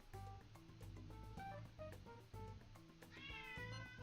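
A cat meows repeatedly in Persona 5 Royal, its calls rising and falling over a steady background music bed, close and clear with no talking.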